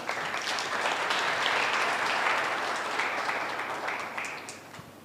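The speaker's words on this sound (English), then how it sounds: "Let's give them a round of applause." Audience applause at a university finance research competition awards ceremony, a dense, steady wash of many hands clapping for about five seconds, loud and sustained before tapering slightly at the end.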